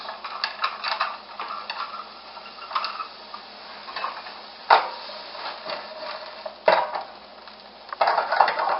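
Peas tossed into a pan with minced garlic and sautéed on high heat for a southwestern shrimp pasta: a series of clinks, taps and stirring scrapes against the pan, fairly close, with no talking.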